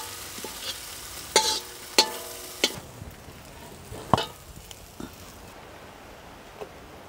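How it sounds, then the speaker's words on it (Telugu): Chicken majestic with fresh coriander is stirred in a pan: a soft sizzle runs underneath while a spoon scrapes and clacks against the pan in several distinct strokes, close and fairly quiet. "ఇప్పుడు కొంచెం కొత్తిమీర అలా వేసుకొని బాగా ఒక్కసారి కలుపుకొని దించి కింద పెట్టేసుకుందాం"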